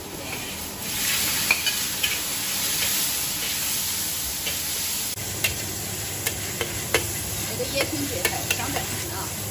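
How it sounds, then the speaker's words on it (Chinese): Vegetables stir-frying in a wok give a soft, continuous sizzling hiss, broken by repeated sharp clinks and scrapes of a utensil against the pan. "我在来炒菜，准备吃饭"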